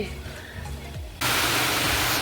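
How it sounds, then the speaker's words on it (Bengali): Heavy rain arrives under dark clouds and strong wind: a fairly quiet outdoor stretch suddenly gives way to a loud, unbroken hissing roar that continues to the end. "এই দেখ কি জোরে বৃষ্টি পড়ছে"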